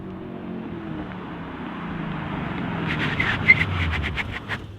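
A 2013 Chevrolet Camaro SS passing in third gear, its engine note rising steadily from a distant rumble to a louder roar as it nears, with sharper bursts near the end.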